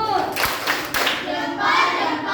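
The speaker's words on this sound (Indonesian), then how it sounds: "Kasih dulu tepuk salut." Schoolchildren in a classroom perform the rhythmic 'tepuk salut' clap together, a few sharp group claps with shouted voices in between, loud and close.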